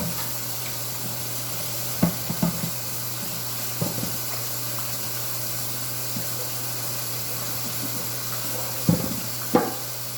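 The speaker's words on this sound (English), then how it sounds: "I'm going to wash this skillet out." Water hitting a hot skillet under a steady hiss, with a few sharp clanks and knocks of the pan at intervals over a constant background hum.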